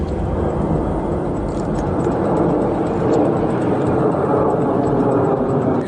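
MiG-29 fighter jets of the Indian Air Force fly over Ladakh near the Line of Actual Control, a loud, steady, broad roar that fills the whole stretch without any talk.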